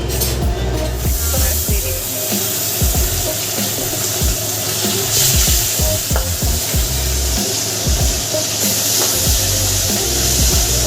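Onion and green chili fry in hot oil for a home-style Assamese fish curry, a loud, steady sizzle running throughout with scraping stirs on top.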